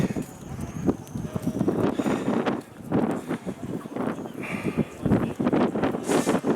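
Gusty wind buffets the microphone outdoors on Granary Island in Gdańsk in rough, rumbling bursts while a person talks over it in Polish.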